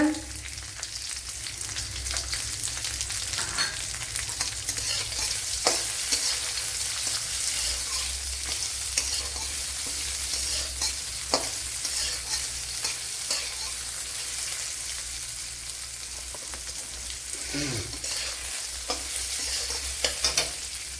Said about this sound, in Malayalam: ഇവിടെ കൊച്ചുള്ളിയൊക്കെ മൂത്ത് വന്നിട്ടുണ്ട്